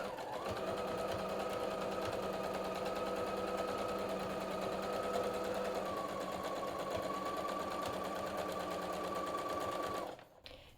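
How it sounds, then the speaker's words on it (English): A sewing machine stitches a fabric dart in one steady run, its motor whirring close and loud for about ten seconds before stopping abruptly, with no talking. "Give a quick stitch, back stitch a few stitches, and then go ahead and go all the way through to the end."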